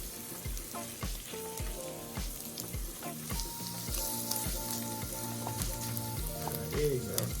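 Scrambled eggs cook in a pan for a sausage, egg and cheese breakfast burrito, giving a steady close sizzle broken by repeated scraping stirs, with steady tones running underneath.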